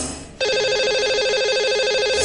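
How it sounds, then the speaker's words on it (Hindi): A telephone rings on a call-out to a phone-in caller during a Hindi radio or TV show, a steady, close electronic ringtone that starts abruptly after a brief quiet moment and repeats without pause. "तो चलिए लगाते हैं इन्हें कॉल और करते हैं इनसे बात।"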